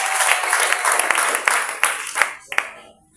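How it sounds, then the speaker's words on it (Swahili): Audience applause greeting a pastor at a church gathering, a dense wash of clapping with several sharper claps standing out, loud and steady before thinning out near the end. "Piga makofi kwa Pastor Victor"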